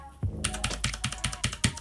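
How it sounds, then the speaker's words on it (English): Keys clatter on a mechanical gaming keyboard in a quick, uneven burst of about a dozen crisp clicky strokes, close and fairly quiet, with no talking. "So this is a really cool mechanical keyboard."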